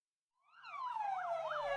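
Fire truck sirens wail as the trucks respond to an electric car fire, rising in from silence into a loud, close warbling yelp that sweeps up and down rhythmically over a low engine hum.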